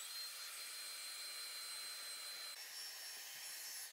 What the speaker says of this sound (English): use a blow dryer and it shrinks.